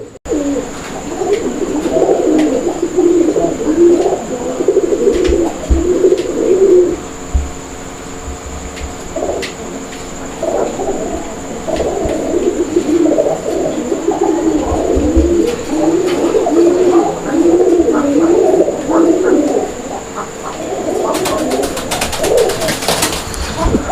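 A pair of pigeons at a pigeon farm in Gazipur, cooing repeatedly in close, low, throaty bursts over most of the stretch, with brief pauses between phrases and a faint steady hum in the background.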